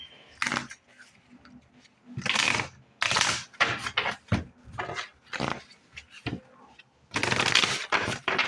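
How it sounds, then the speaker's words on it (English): Tarot cards being shuffled in several quick riffling bursts, crisp and close, separated by short pauses. "One more shuffle."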